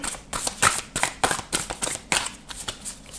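Tarot cards being shuffled by hand before a five-card reading, a fast run of crisp papery riffles and slaps in uneven bursts, close up with no talking.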